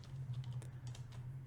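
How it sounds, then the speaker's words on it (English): Quiet keystrokes on a computer keyboard as text is typed in a design app, a soft irregular run of clicks over a low steady hum. "I'm going to type in some text."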